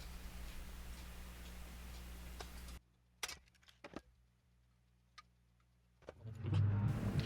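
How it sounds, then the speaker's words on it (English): Small hat nuts being tapped onto the axles of a restored diecast Tonka sheriff toy car, giving a few sharp, close metallic taps spaced over several seconds, set against a quiet room with a low hum at the start and end. "lock them back on by tapping on new hat nuts"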